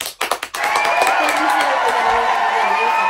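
A small group claps a few quick sharp times, then breaks into loud sustained cheering and squealing for the winning team at a home party game, close and bright throughout.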